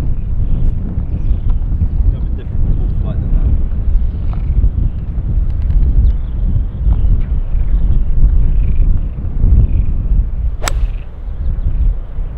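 Strong wind blowing across an open golf course, a constant loud rumbling buffet on the microphone throughout, with a sharp crack of a struck ball near the end and voices talking.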